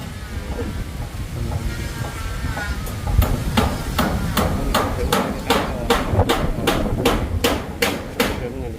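Hammer blows strike nails in a steady, even rhythm, a dozen or so sharp nearby knocks over continuous background noise and low murmuring.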